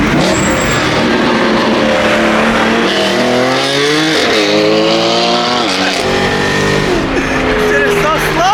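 A BMW E92 M3 engine revs hard through the gears toward 8,000 RPM, loud rising and falling harmonic sweeps from inside the car, with a voice talking over it.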